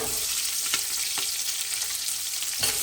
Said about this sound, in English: So you want to fry it until your onions are nice and brown.